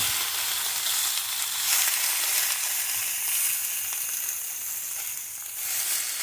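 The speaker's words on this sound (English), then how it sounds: "All you do is there's no oil in the pan. We're just going to keep turning it and charring the edges." Pork belly chars in a dry, oil-free pan for a Japanese kakuni dish, giving a loud, continuous, hissing sizzle close up with no talking.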